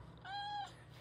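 A neighbourhood community cat gives a single clear meow lasting about half a second, close and fairly quiet over a low background hum.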